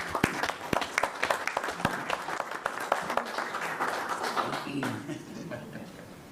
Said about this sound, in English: let's just start with a round of applause